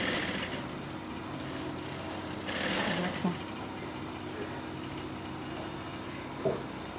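A sewing machine stitches in short bursts, its light whirring motor rising and falling, with a couple of small clicks as the fabric is positioned and a voice talking softly in between.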